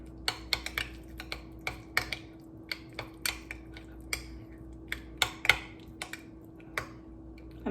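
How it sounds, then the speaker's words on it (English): A spoon clinks and taps against a bowl while pesto and garlic are mixed for roasted potatoes, about two dozen sharp, irregular metallic ticks over a steady low hum. "I'm gonna mix it in there with the garlic"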